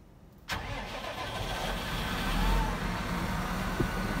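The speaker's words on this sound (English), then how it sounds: "So, first of all, start the tractor." A Massey Ferguson 7700 series tractor engine cranks and catches with a sharp onset, then settles into a steady, close diesel idle that swells briefly before holding even, with no talk over it.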